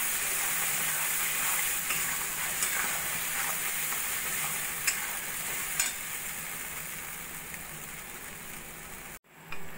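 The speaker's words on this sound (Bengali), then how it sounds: "সেই পেস্টটা দিয়ে ভালো করে মশলাটা আমি কষিয়ে নেব।" A masala paste of cashew, tomato, sour curd and dried red chili fries in a pan, giving a steady close sizzle with faint stirring scrapes throughout before it cuts off abruptly near the end.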